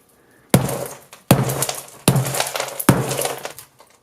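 A hard block is struck four times in a slow even rhythm, each blow a loud sharp crack with a brief gritty, glassy rattle after it, close by.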